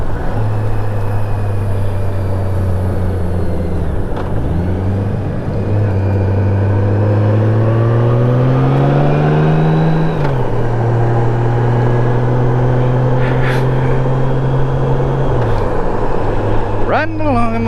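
A Honda GL1100 motorcycle engine drones steadily while riding, its loud hum rising and falling in pitch as the speed changes, with constant wind rush over the whole ride.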